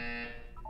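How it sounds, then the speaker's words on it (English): A steady electronic buzzer tone sounds in the Portal 2 video game, loud and sustained before dropping off, with a faint higher chirp near the end. "When you hear the buzzer, look down at the floor."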